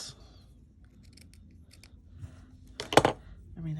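A pair of scissors snips through a piece of lace in one quick, close, crisp cut near the end. Before that come a few faint clicks and soft rustles in a quiet room.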